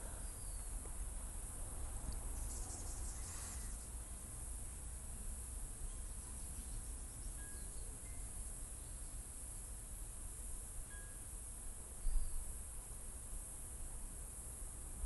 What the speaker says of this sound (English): I like the crickets at night too. Chirp.